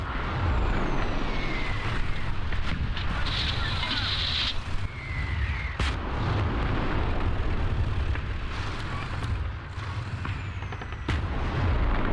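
Tank cannon fire and explosions from T-64 tanks in a Cold War combat video game, a dense continuous rumble of distant battle with bursts and crackle throughout, with faint talk in the background.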